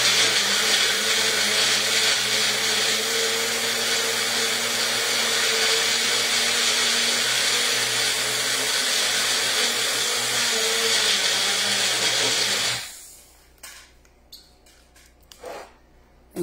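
Blender whirring loudly and steadily as it mixes ice cream, milk and maple syrup, a continuous motor drone for about twelve seconds before cutting off, followed by faint clinks and handling noises.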